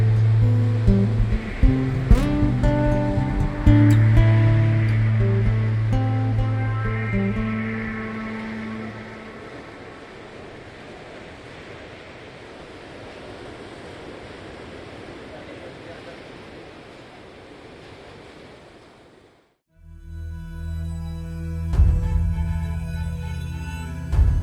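Sea surf washing onto the Mediterranean shore at Caesarea, a steady rushing wash under a strong tonal hum and music-like tones, dipping near the end before louder sound returns.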